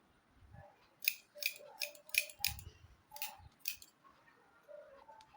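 Scissors snipping through blouse fabric, a quick run of distinct close metallic cuts spaced a fraction of a second apart, with no one talking.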